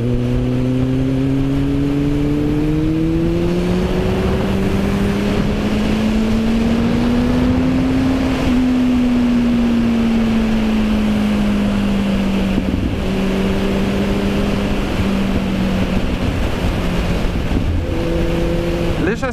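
Kawasaki Z1000 motorcycle cruising on an open road, its engine a steady close drone that rises and falls in pitch through gear changes, with constant wind rush.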